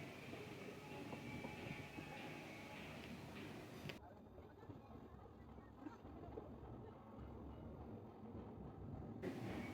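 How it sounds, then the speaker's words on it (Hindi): An Indian passenger train runs on after leaving Itarsi Junction, rolling through a 180-degree curve, a steady close rumble with rhythmic wheel clatter that continues throughout, heard from on board with voices in the background. "ट्रेन अपनी अभी 180 डिग्री कर्व ले रही है।"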